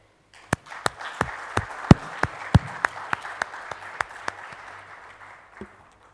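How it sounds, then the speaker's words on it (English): Sparse applause at a New Delhi HR round table as speakers are welcomed, a scattering of loud, distinct, near claps in an uneven rhythm over a quieter crowd patter that thins out toward the end. "request you to welcome them with a big applause"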